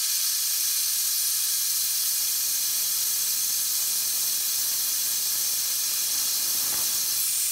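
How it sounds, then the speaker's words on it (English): A very hot torch flame roars with a constant, loud broadband hiss while welding a platinum ring, steady and unbroken throughout with no voices. "now I'm going to get a pretty darn hot flame and watch what I do with it"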